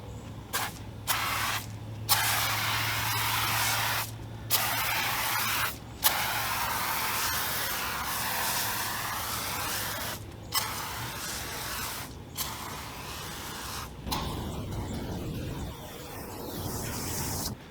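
An IK Foam Pro 2+ compressed-air foam sprayer fitted with a wet foam tip sprays a car in long, steady hissing bursts, broken by short pauses and valve clicks, close and loud with no talking.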